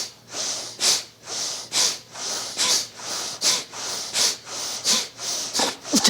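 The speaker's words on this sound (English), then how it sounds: "soft inhale, effortless, and forceful exhale" Forceful rhythmic exhales from a yoga breathing exercise, about a dozen sharp breathy bursts in a steady pulse, close and fairly loud, with no talking between them.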